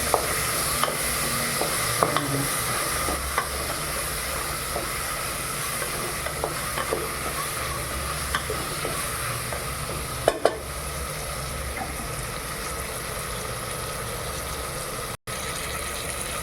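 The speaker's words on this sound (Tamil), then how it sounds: "இப்போ காயெல்லாம் கொஞ்சம் வந்து எண்ணெய் பிரிஞ்சு வந்துருக்குது." Chopped vegetables fry in oil for sambar vegetable rice, a dense continuous sizzle with frequent scraping ladle stirs and a few sharper knocks against the pan, close and steady, no talk.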